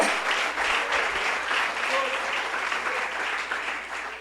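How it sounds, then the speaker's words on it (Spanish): A church congregation claps for the Lord in dense, continuous applause that fills the room evenly and tapers slightly at the end. "déle esas palmas al Señor"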